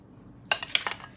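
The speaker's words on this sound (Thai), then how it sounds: "เดี๋ยวเราก็จะตักราดไปเลยนะคะ" A spoon clinks against a dish while dressing is ladled over a stuffed squid salad, giving a few light, close chinks and scrapes after a quiet moment.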